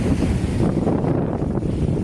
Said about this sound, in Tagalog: Papasok ang dagat dyan.